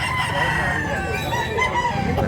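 Chickens and a rooster crow and cluck together at close range on a provincial farm, a dense, continuous layer of overlapping calls with no clear pauses.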